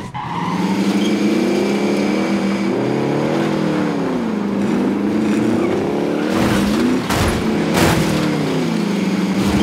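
A car engine revs steadily while being driven in Call of Duty Modern Warfare, its pitch rising and falling, with skidding tire bursts near the end.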